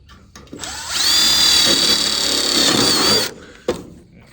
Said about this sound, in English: I've got an 1/8 of an inch drill bit